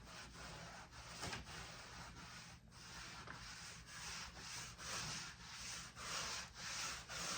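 Hand sanding of a piece of wooden bedroom furniture during a budget makeover: steady, close rasping strokes that rise and fall in a regular back-and-forth rhythm, with no talking.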